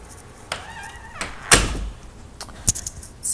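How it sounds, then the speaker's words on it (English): A door being closed indoors: a soft creak and slide, then a solid thunk, followed by a few lighter knocks and rattles, near and fairly loud. "Let me just close the door."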